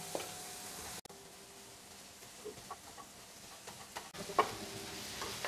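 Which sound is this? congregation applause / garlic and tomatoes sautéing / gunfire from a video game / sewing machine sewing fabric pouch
garlic and tomatoes sautéing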